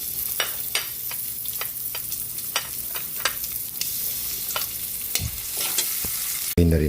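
Onion frying with garlic in a pan, a continuous sizzle broken by repeated scraping strokes of a spoon stirring, close and clear, ending with a sudden louder clatter.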